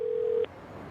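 A steady electronic phone ringing tone from the video game Yakuza Kiwami 2, a single clean held beep lasting under half a second and then cutting off into quiet background hum.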